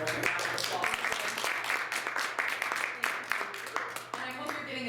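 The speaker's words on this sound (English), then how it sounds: "Let's give her a little round of applause." An audience gives a short round of applause for a presenter from Lumen School in Spokane, with a burst of clapping under overlapping talk.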